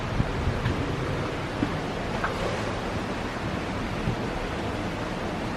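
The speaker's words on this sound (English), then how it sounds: "the stream just tumbling" Stream tumbling down Rocky Valley near Tintagel, Cornwall, a steady broad rushing wash of water, moderately loud and continuous with no voices.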